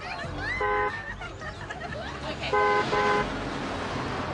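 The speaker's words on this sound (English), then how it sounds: "that honking for you" Car horn honking outside, two clear toots about two seconds apart against a steady background hum, fairly loud.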